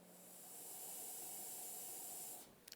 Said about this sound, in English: Okay, we're ready to start the washing machine.